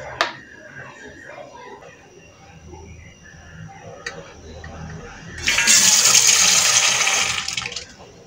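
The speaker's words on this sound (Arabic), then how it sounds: "اهو شويه ميه" Water from a tap pours into a dish holding a little dish soap to test its foam, a bright hissing splash that rises loudly near the end after quieter handling sounds.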